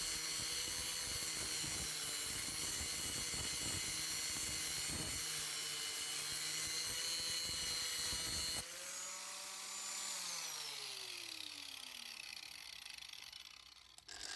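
An 860W Tilswall angle grinder cutting off bolts gives a loud, continuous high-pitched whine with gritty grinding bursts, then the motor is released and spins down with a falling tone.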